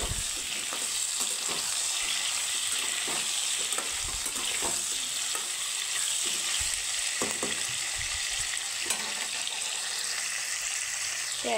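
Potatoes and pointed gourd frying in a pan with a steady, close hiss of oil, broken by occasional louder crackles and stirring scrapes, no voices.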